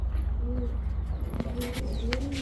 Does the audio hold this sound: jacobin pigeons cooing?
yes